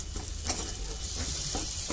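White mustard paste frying in oil in a pan after ginger and garlic, a steady close sizzle with a couple of soft stirring scrapes, no talking.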